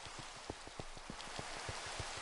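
Steady rain pours down in a Minecraft world near a jungle, a dense hiss with scattered drops tapping out a loose, uneven patter, fairly close and with no voices.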